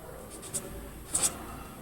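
Pen writing out a maths solution on paper, with faint scratchy strokes, a couple of brief louder scrapes, and a quiet room background.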